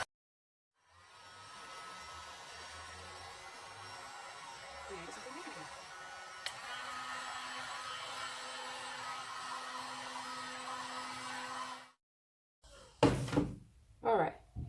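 A heat gun blows steadily on a resin painting, a sustained airy whir running for about eleven seconds before cutting off, followed by brief knocks and handling sounds.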